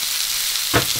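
Diced skinless, boneless chicken breast sizzling in a hot pan for a stir-fry, a loud continuous hiss of frying with one brief burst of crackle near the end, no voices.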